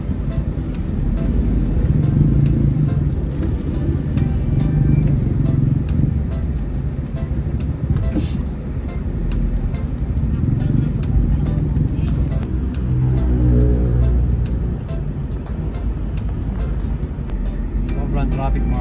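Heavy road traffic heard from a motorbike riding in Germany, a loud, steady low rumble of engines and vehicles close by with occasional clicks, while people talk over it.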